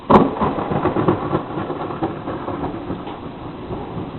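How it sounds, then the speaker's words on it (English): During a storm, hail rattles and pelts steadily in a dense, broadband wash of noise, with a sharp bang near the start and scattered louder impacts in the sound that follows. "I hear hail."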